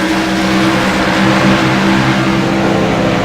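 Race cars at Sonoma Raceway roar loudly and steadily through the S-curves, a dense continuous engine drone with no break across the whole stretch.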